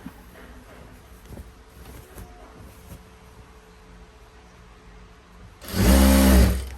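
A sewing machine stitching a nightie seam gives one short, loud mechanical run of less than a second near the end, after a stretch of quiet room noise.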